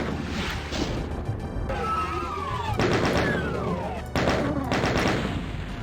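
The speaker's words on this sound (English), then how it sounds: "I'm just going to fire blindly into the darkness" Weapon fire in the 1994 game Doom II, on the map The Spirit World, sounds in a rapid series of loud, sharp blasts with gaps between volleys, fired blindly into darkness at nearby monsters.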